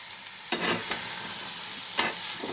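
Vegetables are stirred in a pan with no oil, under a low steady sizzle; a few distinct scrapes of a spatula come near the start and again near the end, close and without talk.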